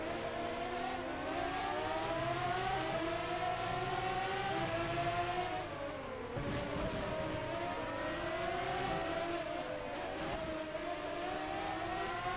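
High-revving Formula One engine from the racing game F1 Challenge '99-'02 at the 1993 German Grand Prix, a loud continuous whine rising and falling with gear changes, with dips near six and ten seconds and a second car close alongside.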